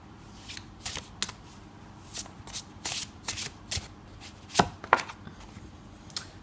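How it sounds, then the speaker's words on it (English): Tarot cards being shuffled and laid out, with crisp riffling bursts and sharp slaps as cards land, irregular and close, with no talking. "Let's lay out one more card here for you, Scorpio, and see what comes up."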